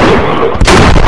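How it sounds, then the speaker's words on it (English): A smoke bomb bursts in The Last of Us multiplayer, a loud dense hiss-like rush of noise that swells sharply midway through, set over a continuous roar of game ambience. "they use a smoke bomb poorly"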